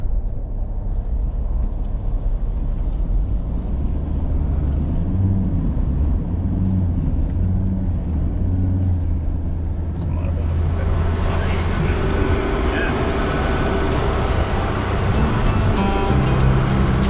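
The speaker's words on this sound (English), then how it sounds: "Check the diff lock in, second gear, get ready to lean over." A four-wheel-drive vehicle climbing in second gear with the diff lock engaged on Moreton Island sand tracks, its engine drone steady and close, growing louder and harsher near the end.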